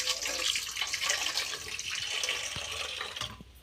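Cold tap water runs steadily over freshly boiled eggs in a pot or sink, a continuous close splashing hiss with a few small clunks toward the end.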